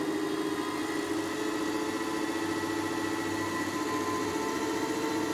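DC shunt motor running on a lab bench during a speed-control experiment, giving a steady, even mechanical hum and whir that holds constant without pauses or talk.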